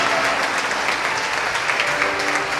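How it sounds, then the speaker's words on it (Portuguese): A church congregation claps together in steady, dense applause that holds at an even level throughout, filling the room with no single voice standing out. "Pode aplaudir em nome de Jesus."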